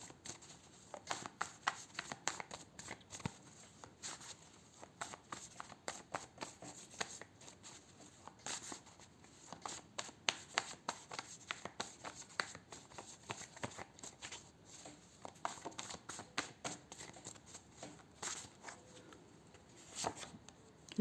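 Tarot cards being shuffled and pulled: soft, close riffling and card-snapping clicks repeat steadily and quietly throughout, with no talking.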